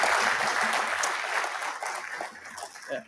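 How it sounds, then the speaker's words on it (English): An awards ceremony audience applauds the recipients: sustained clapping from many hands in a hall, strongest at first and then thinning gradually toward the end. "I'd like to actually give a round of applause to all the award recipients again"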